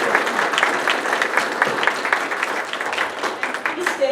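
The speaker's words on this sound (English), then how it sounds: "we owe them a huge thank you and round of applause." A round of applause from attendees at a township supervisors' meeting, steady and moderately loud, with dense overlapping claps throughout.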